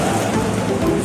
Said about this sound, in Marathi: पाऊस बघा खाली आहे